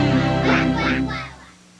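Duck quacking in a 1984 McDonald's television commercial, a few nasal honking calls in quick succession, close and fairly loud, fading out near the end.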